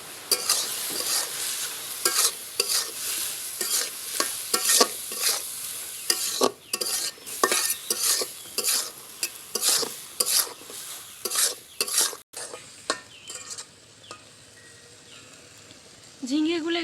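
Ridge gourd fries with turmeric, ground cumin, dried red chilli and ginger, and a spatula scrapes the pan again and again in quick rhythmic strokes over a constant sizzle. Near the end the stirring stops and only a softer hiss remains.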